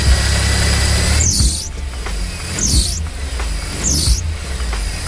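A slipping alternator belt on a second-generation Toyota 4Runner engine, three sharp rising-and-falling squeals about every second and a half over a steady low engine idle, loud and close.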